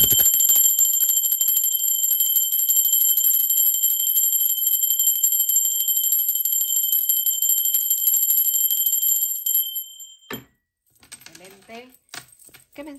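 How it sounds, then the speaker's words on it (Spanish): A bell rings with a sustained, bright tone that holds steadily for about ten seconds before fading, followed by a few faint clicks and rustles in near-silence. "Ahora sí, va campana."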